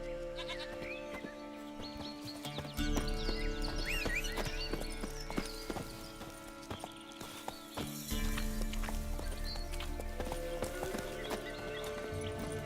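Horse hooves clip-clop at a steady gallop in The Witcher 3: Wild Hunt, the rhythmic beats continuing throughout over layered game music, with occasional animal bleats in the background.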